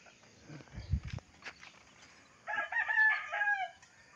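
Young roosters in a yard, with low clucking first, then one loud drawn-out crow rising in the second half, fairly close and with no talk.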